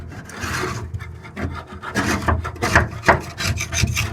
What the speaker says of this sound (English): That does scrape off pretty easy as long as you heat it up.